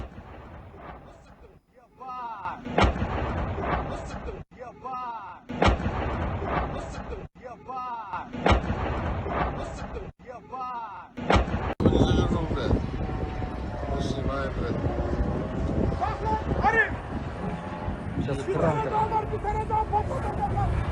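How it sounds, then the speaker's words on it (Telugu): Heavy blasts and roaring from a drone attack on a Russian manufacturing plant boom in loud bursts separated by short silences, then merge into a continuous rumbling roar with shouting voices in the distance. "డ్రోన్ అటాక్ జరిగినటువంటి తీరు క్షణాల్లోనే ఆ ప్లాంట్ మొత్తం, మ్యానుఫ్యాక్చరింగ్ ప్లాంట్ మొత్తం కూడా పూర్తిగా బ్లాస్ట్ అయిపోయినటువంటి విధానాన్ని మనం చూస్తున్నాం"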